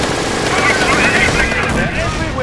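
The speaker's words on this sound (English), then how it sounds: "Taking MG fire." Machine gun fire crackles in Company of Heroes during a Wolfheze–Oosterbeek battle, a dense continuous burst of rattling shots with battle noise behind it, loud and sustained throughout.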